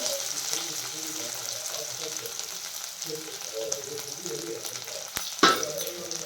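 Coriander with turmeric being sautéed in a pan for a sprouted moth bean usal, a soft continuous sizzle with faint stirring scrapes and a sharper clatter near the end, fairly quiet.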